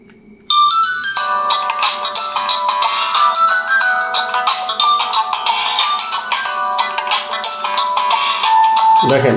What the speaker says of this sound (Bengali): আপনার 9 নম্বরে একটা রিংটোন থাকে, দেখেন সুলফুল নামে